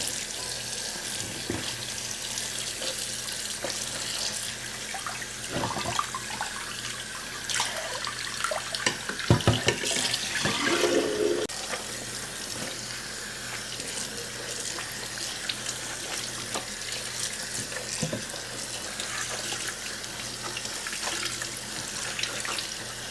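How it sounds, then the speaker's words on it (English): A sink tap runs steadily as fabric is rinsed under cool water, a continuous close splashing flow with a few louder bursts and clatters partway through. "We're just gonna rinse cool until the water runs clear."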